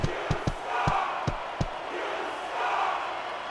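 A large wrestling arena crowd roars and cheers continuously at WrestleMania, with several sharp thuds near the start over the sustained, swelling crowd noise.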